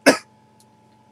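A single sharp cough up close, followed by near silence.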